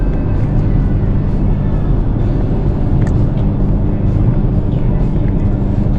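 Low, steady rumble of a V8 engine idling or cruising in the car once used for ghost-hunting trips, a dense continuous drone with no breaks and no voices.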